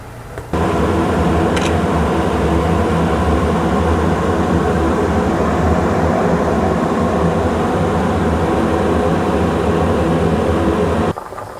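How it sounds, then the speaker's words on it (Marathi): South Indian sambar sweetened with jaggery boils vigorously in a pot, a steady, dense bubbling roar held at an even level from start to end, close and loud with no voices. "हे बघा आता सांबार एकदम खळखळ उकळलेला आहे"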